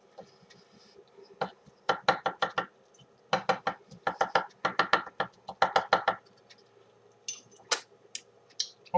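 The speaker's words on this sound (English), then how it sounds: "I'm going to go ahead and put in one of the chilies, but I need to chop it down, mince it down nice and fine." A knife chops a chili finely on a cutting board for a red beans and rice dish, a close series of quick, sharp taps in bursts of rapid rhythm with short pauses between.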